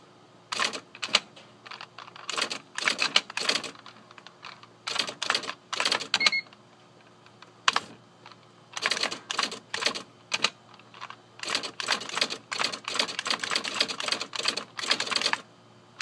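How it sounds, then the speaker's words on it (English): Lexmark Wheelwriter 1000 electric typewriter striking letters in quick bursts of crisp clacks separated by brief pauses, close and fairly loud with no talking over it. "we're just going to type some letters"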